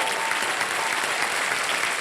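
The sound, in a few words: studio audience applause on game show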